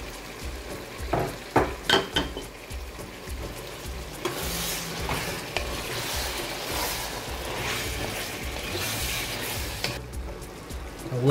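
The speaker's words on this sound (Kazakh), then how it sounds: "осы қуырылған пиязымыздың үстіне сәбізімізді салып тағы да қуыратын боламыз" Carrots fried on top of already fried onions in a pan, a steady sizzle with stirring and a few utensil clanks at the start, continuous and close.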